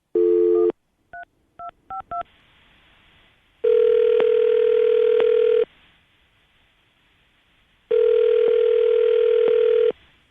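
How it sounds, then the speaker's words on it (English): A phone call being placed: a short burst of steady tone, a quick string of dialing beeps, then two long ringback tones separated by silence, clear and alone with no voices. "we'll call him, see if we can get him on the phone."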